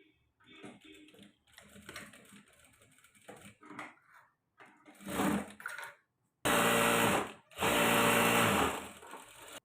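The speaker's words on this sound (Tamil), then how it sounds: "இந்த இடத்த ஒரு மார்க் போட்டு மடிச்சு அடிச்சுக்கலாம்" Electric sewing machine stitching a folded blouse seam, running in two loud steady bursts near the end after softer handling noises.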